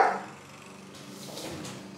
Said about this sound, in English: My dog again, very annoying.